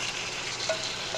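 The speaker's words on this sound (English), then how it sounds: "Now I'm adding the marinated mutton." Marinated mutton hits a hot frying pan for shalgam palak gosht, giving a steady, close sizzle that holds evenly throughout with no voices.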